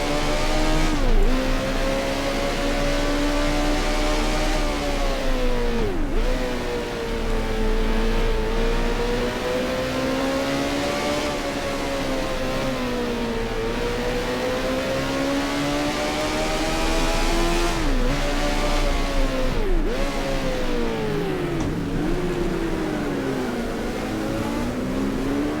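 Race cars in the F1 Challenge video game, a 1978 season race, whine loudly with a steady high engine drone that repeatedly dips and climbs as gears shift, continuous throughout.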